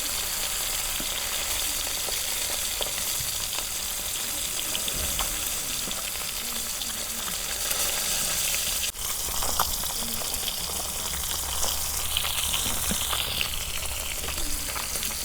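Pieces of rohu fish fry in fully heated oil in a village kitchen, a steady close sizzle and crackle running throughout, with occasional stirring clinks and a voice talking now and then.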